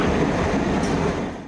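The Eastern Express passenger train on the Ankara–Kars line runs over railway repaired after heavy rain, a loud, close, continuous rumble and rattle of wagons that eases slightly at the end, with no talk.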